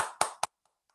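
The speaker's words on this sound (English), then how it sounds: "please give them a virtual round of applause" Two sharp, separate claps ring out close and brief, one right after the other, then near silence, like a small pocket of applause from online meeting participants during an annual business meeting's officer installation.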